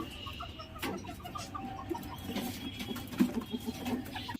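Chickens and other birds cluck and chirp softly during a morning feeding on a rooftop, with a grain mix of millet, sorghum, paddy and rice, in short repeated calls at a moderate distance.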